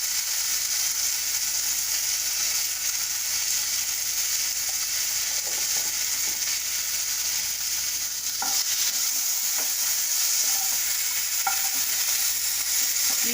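Lotus stem slices fry in a pan with a pinch of turmeric, giving a steady, broad sizzle throughout with occasional scrapes and clicks of stirring, no voices.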